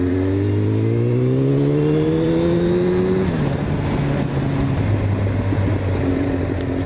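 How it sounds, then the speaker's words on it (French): Four-cylinder motorcycle engine with a rather high idle, heard up close and loud: a smooth rising rev that holds, then drops back to a steady, even idle hum. "le son du 4 cylindres, c'est autre chose quoi"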